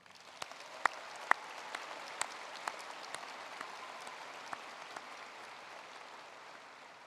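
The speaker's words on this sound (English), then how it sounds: "Please join me in giving them a warm round of applause." Sparse, thin applause at the Tomball Memorial High School 2026 graduation ceremony, soft distant clapping with a few louder individual claps standing out over a quiet hall.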